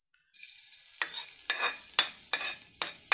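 Garlic frying in hot oil in a pan, a sizzle that surges in repeated bursts as it is stirred, with faint scraping between them and no voices.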